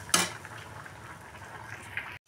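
Ground cumin and garam masala frying in a pan for a fish-head moong dal: a soft, faint sizzle opening with a brief scrape of the spatula, then a low steady hiss.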